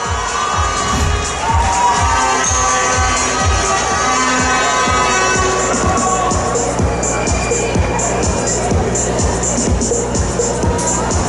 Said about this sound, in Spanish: Ariana, un fuerte aplauso para ella